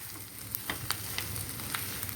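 Onion samosa filling fries in a pan with a steady sizzle, punctuated by several sharp scraping clicks of a spoon stirring against the metal, close and moderately loud with no talking.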